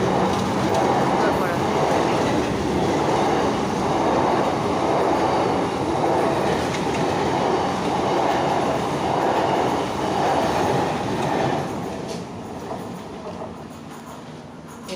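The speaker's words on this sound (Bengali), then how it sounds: "এই দেখুন ওপর দিয়ে ট্রেন যাচ্ছে" A train crosses overhead on a rail line running from Uttarpara toward Howrah, its loud rumbling wheels and clattering cars filling most of the stretch before the roar drops away near the end.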